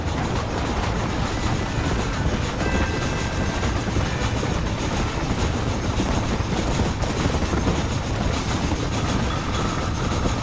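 A train engine in the video game Red Dead Redemption runs with a constant loud rumble and rattle of rolling wheels, steady and unbroken throughout, with no talk.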